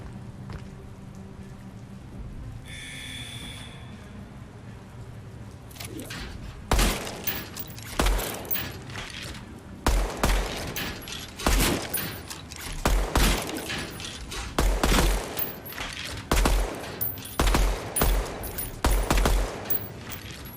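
Single-fire gunshots in a video game ring out one at a time in a steady, evenly spaced rhythm, loud and close, after a quieter stretch of ambient game sound at the start.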